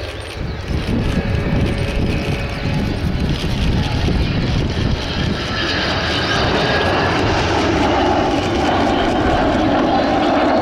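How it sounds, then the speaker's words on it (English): Avro Vulcan bomber flying a display at RIAT 2012, its jet engines giving a loud, sustained roar that swells and broadens as the aircraft comes back in toward the crowd. "So Vulcan coming back in towards us"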